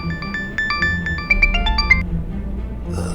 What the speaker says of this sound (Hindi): सॉरी सेठ, घर से बार बार फोन आ रहा है।